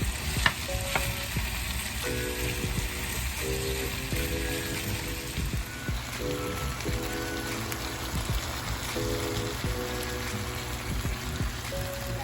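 Onions sizzle in a pan of butter, with garlic powder on the way, giving a steady close-up crackle of frying with faint intermittent tones in the background.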